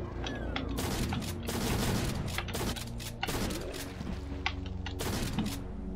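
Belt-fed sci-fi shotgun in the shooter game Mars Undying firing in rapid, loud blasts across several seconds, each shot followed by mechanical clanks as the next shell feeds in.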